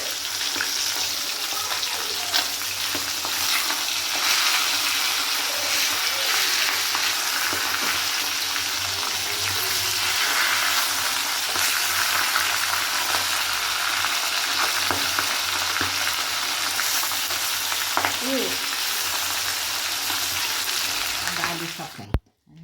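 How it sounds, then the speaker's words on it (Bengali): Pieces of fish fry in a pan with a continuous, dense sizzle and crackle that holds steady for a long stretch before cutting off abruptly, with faint voices now and then underneath. "এটা কি মাছ আমি ঠিক জানি না, ভেজে রেখেছি আর এখানে কিছুটা ভাজা হচ্ছে"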